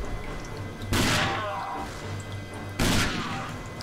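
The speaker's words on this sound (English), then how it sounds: "Just keep shooting these guys in the head." Gunfire in the video game RAGE, two loud sharp blasts a couple of seconds apart, each with a decaying crackling tail over a low background hum.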